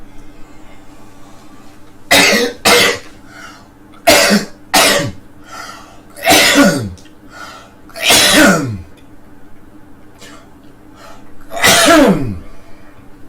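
A series of sharp sneezes, some in quick pairs, bursting out loudly over a quiet humming background at irregular intervals.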